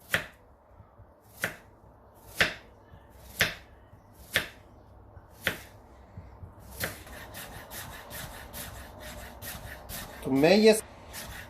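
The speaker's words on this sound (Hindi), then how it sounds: "तो ये मैं सारा प्याज काट लेता हूँ जो मेरे पास रह गया है।" A knife finely chops onions on a board, beginning with about seven distinct, evenly spaced chops, then speeding into rapid, close chopping that ends with a brief louder clatter.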